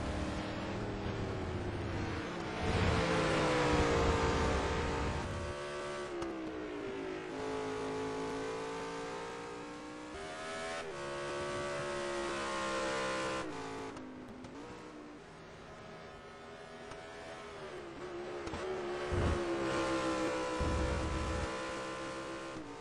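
Race cars circling the Hockenheim circuit during a touring car race, engines rising and falling through gear changes as they pass close together, sustained loud revving with fades between passes.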